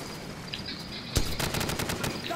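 Suppressed weapons fire in Call of Duty 4: Modern Warfare, a muffled crack followed by a rapid cluster of soft shots against a hissing battlefield background.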